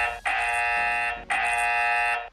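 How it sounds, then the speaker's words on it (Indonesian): Gojek order ringtone from the Grab Driver app: two loud, bright electronic buzzing tones, each about a second long, with a short gap between them and no voices. "Dan di sini juga ada nada dering orderan Gojek."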